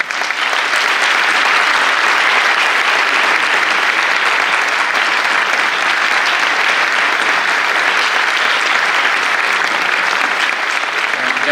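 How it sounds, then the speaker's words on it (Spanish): Steady, dense applause from a theatre journalists' association audience fills the room at its 35th Mauricio Herrera award ceremony, a loud, continuous wash of clapping that holds even from start to finish without any talk. "Así que le demos un aplauso."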